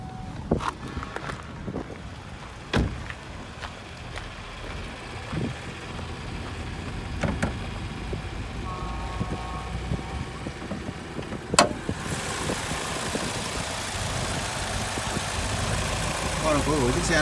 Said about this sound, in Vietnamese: Đây, em xin đề máy và mở phần khoan động cơ nhé.